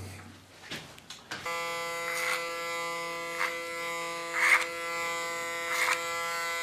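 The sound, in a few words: electric hair clipper buzzing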